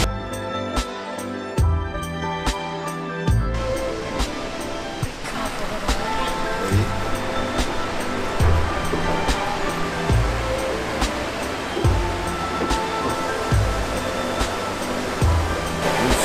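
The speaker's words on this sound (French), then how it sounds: "C'est vraiment top qu'ils aient illuminé la petite cascade de 22 mètres." A small 22-metre waterfall at Ginzan Onsen in Yamagata pours in a steady, dense rush of falling water. It stays close and continuous throughout, with a faint low murmur that could be distant voices mixed in.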